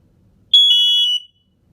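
Kidde smoke alarm horns, a 1998 unit and a 2006 unit sounding together, one loud, shrill piercing tone lasting under a second, starting and stopping abruptly.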